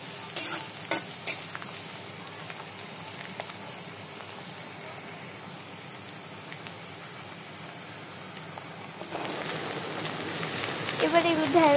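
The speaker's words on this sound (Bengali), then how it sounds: "এবার তেলের ভিতরে দিয়ে দেব কালো জিরা, পেঁয়াজ কুচি, মরিচ কুচি দিয়ে এরপর খুব ভালো মতো ভেজে নিতে হবে" Nigella seeds, chopped onion and chili fry in hot oil, a soft steady sizzle with occasional stirring scrapes that swells louder near the end.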